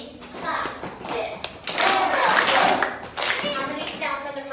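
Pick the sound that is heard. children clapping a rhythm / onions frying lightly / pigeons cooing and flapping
children clapping a rhythm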